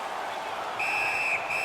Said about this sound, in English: Puck covered, whistle blown.